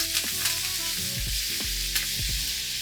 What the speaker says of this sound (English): hit it with the butter. Also thyme and garlic. Heat down, baste.